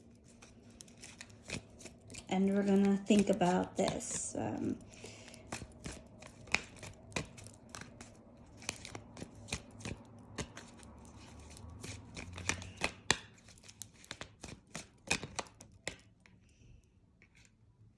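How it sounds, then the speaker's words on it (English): Tarot cards are shuffled by hand in a burst of dense riffling, followed by a long run of crisp, irregular card snaps and taps, close and fairly quiet, with a brief spoken remark early on. "So I'm going to go ahead and shuffle my cards."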